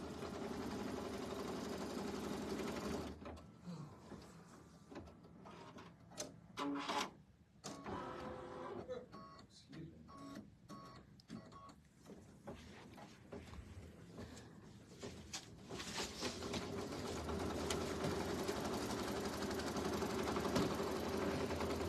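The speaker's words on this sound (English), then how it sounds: "So we stitch here, and after Cindy did all of that trimming, now it's getting more stitching put around it" A sewing machine stitches around a pillow with a steady mechanical whir that stops briefly in the middle, recorded at low level, close by and with no talking.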